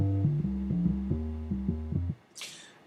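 A triangle-waveform tone from the Thor synthesizer plays a loud, hollow-sounding melodic sequence of stepped pitches, then cuts off, followed by a brief faint noise burst.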